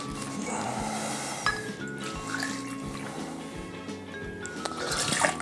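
Vodka pours into a small metal cocktail tin, a close, liquid gurgle and splash running for several seconds with a few clinks, over a faint background hum.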